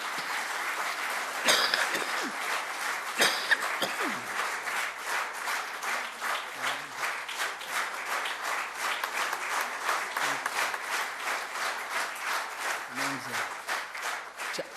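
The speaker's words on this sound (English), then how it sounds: "may I request you to please join for a big round of applause as I welcome Revered Swamiji" Big round of applause from an audience at a talk, welcoming Revered Swamiji: dense, sustained crowd clapping that holds steady throughout, with a few faint voices underneath.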